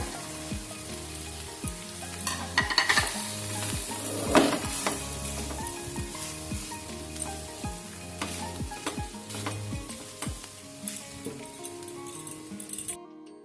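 Cooked rice stirred in a hot pan with fried cashews and raisins, a steady sizzle under repeated scraping, clinking spatula strokes in an uneven rhythm, close and moderately loud, with no talking.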